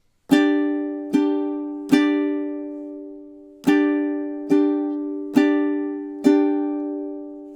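Ukulele strumming the intro of a song: seven bright, ringing chord strums spaced in a steady count with a short pause in the middle, each decaying slowly, played alone and up close.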